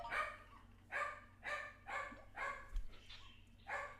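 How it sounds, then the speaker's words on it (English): A dog barks in the background in a regular series of about seven separate barks, roughly one every half second, moderately faint, with no talk over it. "My actual dog barking in the background."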